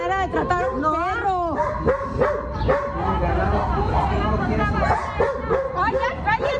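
A mistreated dog barks, yips and whimpers in distress amid shouting, agitated voices of several people nearby, the yelps rising and falling in repeated bursts over continuous chatter.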